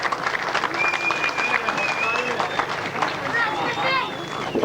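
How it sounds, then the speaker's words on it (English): Crowd applause and cheering for riders at the 1997 International Bonfire Burnup grasstrack meeting, a loud, sustained outdoor clatter of clapping with whistles and shouting voices mixed in throughout. "a round of applause for them as they come up"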